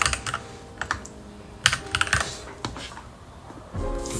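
Irregular bursts of computer keyboard keystrokes, close and crisp, tap out a test email address, with short pauses between clusters of keys and no talking.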